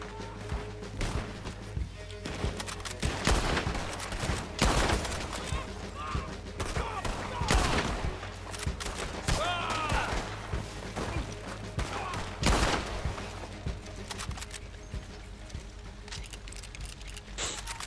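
Gunfire in the Red Dead Redemption 2 video game, scattered sharp shots and bursts of varying distance over a continuous low rumble, with someone talking intermittently throughout.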